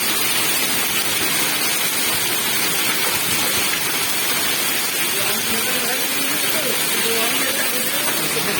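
A hailstorm with heavy rain at Tun Perak, Malaysia, makes a loud, constant roaring hiss throughout, while voices talk faintly underneath the downpour.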